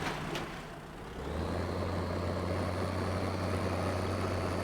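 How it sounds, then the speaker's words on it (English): International tractor engine in Farming Simulator 15 on a South West Norway farm map, a steady heavy diesel drone that rises and settles into a constant low idle hum, alone with no talking. "Great little tractor this is."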